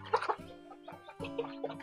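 Young chicks on a poultry farm cluck and chirp in quick, overlapping calls, several short bursts close by with no talk.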